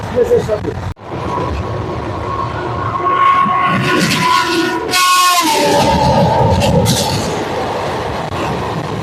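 A passenger train arriving at a station, a loud rumble and rolling noise with a rising screech of wheels and brakes, while people talk nearby over the train.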